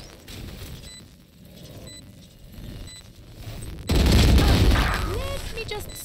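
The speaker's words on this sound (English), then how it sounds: "Swarm grenade out." Swarm grenade going off in the tactical shooter Valorant during a collegiate match, muffled game noise and voices giving way to a sudden loud rumbling burst of explosions that lingers with ringing tones.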